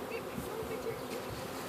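Honeybees are being loaded into a hive, and their dense, steady buzz fills the air at low volume, close and continuous with no voices.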